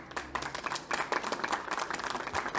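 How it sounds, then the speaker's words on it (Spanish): Applause for Senator José Narro at a press conference, with a crowd of hands clapping in a dense, uneven patter and sharp bursts of claps throughout. "Y le doy un aplauso"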